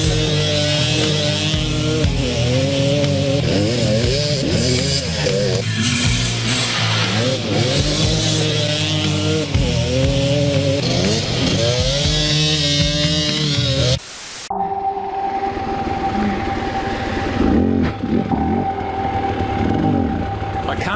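An enduro dirt bike engine revs repeatedly as it rocks and struggles up a rocky creek bed in Romania, loud and close with rising and falling pitch, then drops to a quieter idle with rustling.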